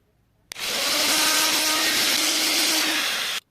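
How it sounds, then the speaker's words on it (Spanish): A copper bracelet is sanded with sandpaper in one long, unbroken abrasive rasp, loud and close, starting abruptly and cutting off cleanly after about three seconds. "Y así vamos a lijar aquí toda esta parte y también toda la parte del frente."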